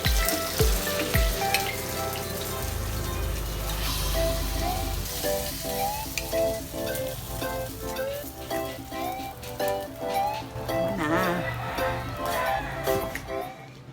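Steady sizzling of food frying in a pan in a home kitchen, with clatter and stirring sounds over it and some music-like tones in the background.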